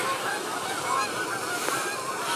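Geese honk repeatedly over a dense, steady outdoor wash of noise, their calls overlapping and fairly close, with no talking.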